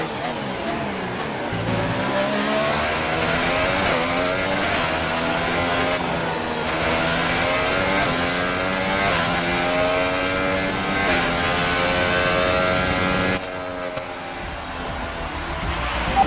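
Formula 1 engines scream in the F1 2018 video game at the Australian Grand Prix in Melbourne, with a Williams car in the race. A close, high whine climbs repeatedly through gear shifts, then cuts off near the end.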